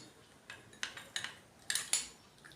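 A big spoon mixing face pack powder in a bowl, with five or six quiet, separate scraping taps of metal against the dish in an uneven rhythm.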